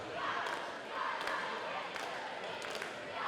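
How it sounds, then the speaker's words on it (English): A student cheer section chanting at a high school volleyball match between Oregon and Waunakee, a loud crowd roar rising and falling in rhythmic bursts inside a gym, with sharp periodic thumps. "Oregon cheer section cheering us up, making us all hype"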